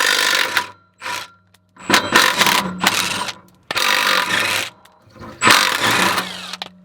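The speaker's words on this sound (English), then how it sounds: "we're gonna get those off with our impact" An impact wrench rattles in loud bursts of several seconds each with brief pauses between them as it spins 15mm clamp nuts off the exhaust of a Shelby GT-350 during a Borla ATAK exhaust install.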